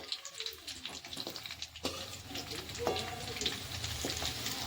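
Khajur pak, a date sweet, cooks in a pan over a very low gas flame, giving a soft, steady sizzle with scattered crackles and light stirring. No one speaks.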